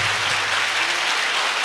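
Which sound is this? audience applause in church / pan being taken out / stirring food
audience applause in church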